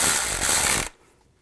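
Ratchet wrench tightening bolts on a 2010-2017 Chevy Equinox engine during variable valve timing sprocket replacement, a dense rapid clicking burst lasting under a second, close and fairly loud, then abrupt quiet.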